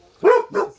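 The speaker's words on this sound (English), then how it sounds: "my dog's barking" Pet dog barking indoors, two quick close barks in succession, loud and clear with a short gap between them, one brief spoken word over the start.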